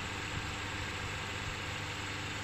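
A car engine idles steadily with a low, constant rumble and faint vibration, the drive belt turning while the air-conditioning compressor stays off; no voices, just an even drone throughout.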